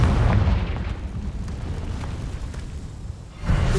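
A Confringo fire spell exploding in Hogwarts Legacy, a loud rumbling blast that fades over a few seconds before another burst begins, no talking.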